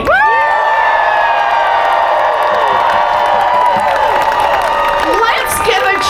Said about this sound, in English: Let's give a cheer for every patriot who says they will not bow down.